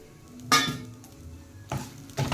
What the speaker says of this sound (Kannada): ಇಲ್ಲಿ ನಾನು ಕಾಯಿ ತುರಿ ಹಾಕ್ತಿದ್ದೇನೆ.